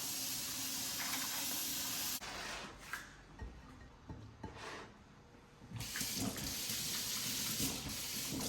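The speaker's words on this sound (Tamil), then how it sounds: "பருப்பு கழுவுறேன், பருப்பு வைக்க போறேன்." Lentils are washed under running tap water in a home kitchen. A faint, steady hiss of flowing water is briefly interrupted by softer swishing and handling, then the flow returns.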